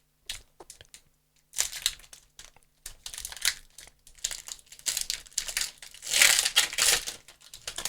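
A Pokémon booster pack from the Flammes Fantasmagoriques set crinkles and tears open in close bursts of foil crumpling, slow and hesitant at first, then louder ripping toward the end.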